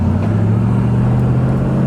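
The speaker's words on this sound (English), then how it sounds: "I'm going to go ahead and downshift it into the first gear." A 1973 Chevrolet Monte Carlo with a 350 V8 engine, downshifted into first gear, hums in a steady, loud, close low drone with no change in pitch.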